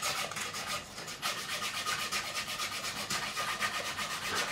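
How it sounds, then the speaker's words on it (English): 400-grit sandpaper rubbed along the fret edges of a Fender Strat neck, making a close, rhythmic rasping scrape in repeated back-and-forth strokes with no voices. "So we're just going to roll over with some 400 grit just to soften them edges up a bit."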